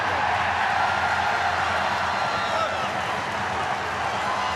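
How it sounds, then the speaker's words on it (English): A home crowd at a Super League rugby match between Castleford Tigers and St Helens roars loudly after a red card, a dense, sustained wall of shouting and cheering mixed with clapping. "The crowd go absolutely crazy in the home end here because St Helens are down to 12"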